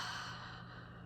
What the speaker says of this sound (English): 1 more deep breath in, this time exhaling through your mouth